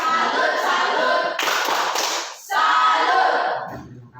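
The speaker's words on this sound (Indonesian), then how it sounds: "Tepuk salut." A classroom of students claps a rhythmic salute clap, several loud bursts of many hands together separated by short pauses, close and dominant, with faint voices in between.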